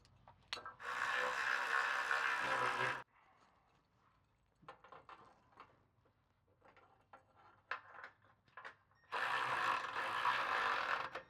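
A ratchet wrench driving a half-inch bolt into rock sliders on a 2014–2021 Toyota Tundra, with two long loud bursts of rapid clicking at either end and quieter scattered metal clicks and handling in between.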